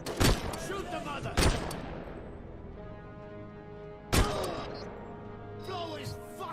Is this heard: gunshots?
yes